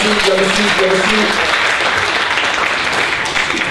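Workshop participants at a slam poetry session applaud a performer in a loud, steady burst of clapping, with a short sung or hummed tone and a voice briefly overlapping at the start.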